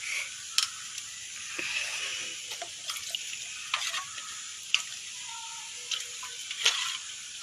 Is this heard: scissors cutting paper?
no